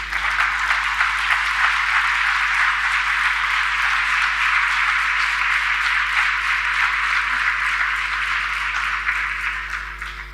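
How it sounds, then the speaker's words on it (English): A conference audience applauds with dense, sustained clapping for about ten seconds, even and loud throughout before tapering at the close, with a steady low hum beneath. "please give yourselves a round of applause"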